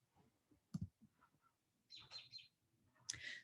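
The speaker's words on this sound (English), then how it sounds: "I don't know if you can hear the birds chirping in the background here" Birds chirp outdoors in spring: faint, thin high chirps and short calls sound twice in the background, with a soft thump and light clicks and rustles near the start.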